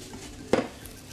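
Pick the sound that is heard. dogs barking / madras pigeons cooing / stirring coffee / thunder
stirring coffee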